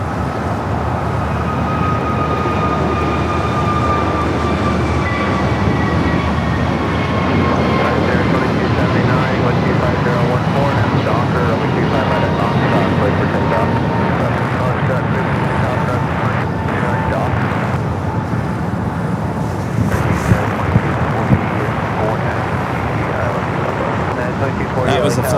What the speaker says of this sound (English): That was a flight heading to Honolulu, flight 297 in A321 Neo